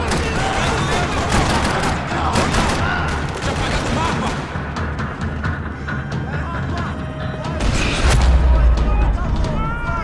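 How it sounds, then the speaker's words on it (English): Dense rapid gunfire rattles continuously in a parking lot in the video game Max Payne 3, with heavy booms and a deep blast near the end, game-style combat noise throughout. "Another parking lot rattling with gunfire."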